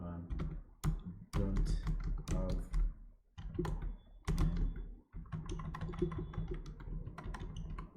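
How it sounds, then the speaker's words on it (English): Close, quiet typing on a computer keyboard, bursts of clustered key clicks and thumps separated by short pauses, then a denser continuous run of keystrokes toward the end. "I'm going to double click on it, and I'm going to type in"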